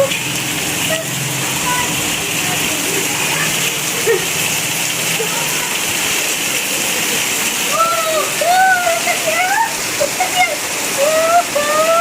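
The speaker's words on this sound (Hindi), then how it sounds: "इतनी तेज बारिश हो रही है" A steady, dense roar of heavy rain pours throughout, heard from a balcony, with people talking over it and occasional rising whistle-like tones.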